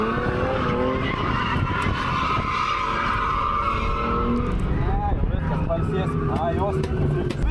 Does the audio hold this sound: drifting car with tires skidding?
yes